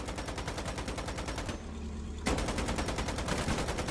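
Rapid, sustained artillery and gunfire from the Foxhole war game, with a brief lull before the barrage resumes even louder and dense, continuous booms filling the scene.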